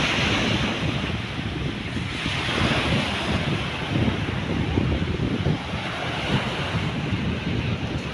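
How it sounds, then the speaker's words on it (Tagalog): Large waves crash continuously against the shore of Manila Bay during a typhoon, with a loud, steady surf roar and heavy wind buffeting throughout. "Ang lalaki ng alon ngayon guys"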